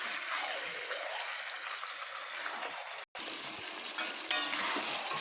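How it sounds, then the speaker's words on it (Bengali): Meat being stirred with spices and turmeric in a pan for biryani, a steady close sizzle with scraping stir strokes throughout, broken by a brief gap near the middle and a louder scrape toward the end. "এবার আমি এগুলোকে ভালোভাবে মিশিয়ে নেব।"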